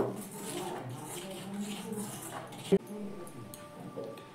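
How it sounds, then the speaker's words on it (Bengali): Dry ingredients for paratha batter being mixed in a bowl, with soft scraping and stirring close by and one sharp clink of utensil on the bowl midway. "এবার শুকনো উপকরণগুলো প্রথমে ভালো করে একটু মিশিয়ে নেব।"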